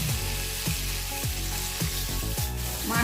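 Rohu fish fries in hot oil with a dense, continuous sizzle and crackle. A light scrape is heard near the end, and music plays in the background.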